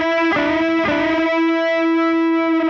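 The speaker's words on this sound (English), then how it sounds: "So I call that unison bending" An electric guitar plays unison bends, two distorted notes struck twice and then held, wavering and sustaining as the bend settles into a steady ringing tone.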